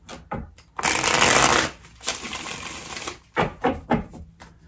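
A tarot card deck is shuffled in a long riffle burst, followed by shorter irregular card flicks and taps, close and crisp, with a brief voice under it.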